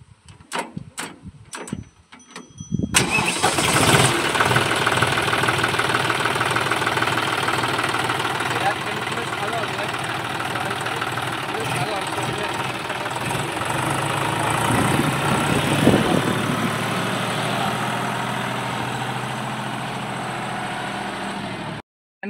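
A tractor engine cranks over and catches after a couple of seconds of clicks and handling, then settles into a steady, loud diesel idle with a knocking rumble that runs on unbroken until it cuts off at the end.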